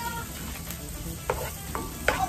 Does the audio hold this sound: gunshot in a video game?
no